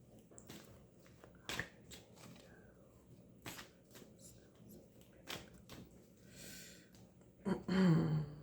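Tarot-style killer cards are handled and shuffled close by in quiet, with repeated soft riffling flicks and a louder rustle near the end.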